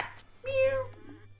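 A single clear, drawn-out cat meow sounds in the middle, close and prominent, with faint voices around it during a gaming session.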